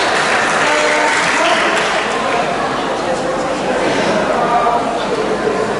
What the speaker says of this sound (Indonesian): Tepuk tangan untuk Zaki ya